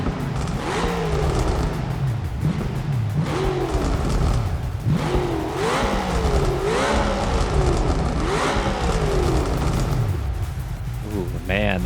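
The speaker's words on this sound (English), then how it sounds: "With the sound of that exhaust." A car engine revving with a rumbling exhaust in the BeamNG video game, repeated rising and falling throttle blips over a steady idle rumble, close and loud, with someone talking over it.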